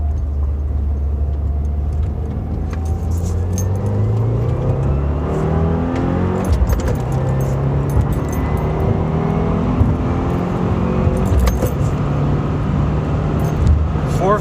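Stage 1 tuned 2017 Subaru WRX Premium accelerating hard through the gears from inside the cabin, a loud droning engine climbing in pitch, dropping at shifts and rising again at high speed.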